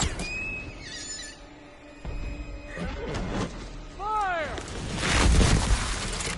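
A horse whinnies loudly with a rising and falling neigh in Assassin's Creed 3 Remastered, set among game sound effects, crashes and a dramatic background score.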